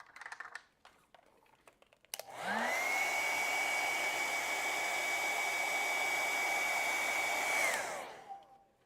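A hair dryer switches on and blows steadily for about five seconds to dry an acrylic painting of a firefly night forest, then winds down, with a few brisk clicks and taps beforehand.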